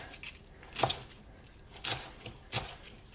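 A knife dices celery sticks on a cutting board, giving three crisp, separate chops spaced about a second apart, close and clear over quiet room tone.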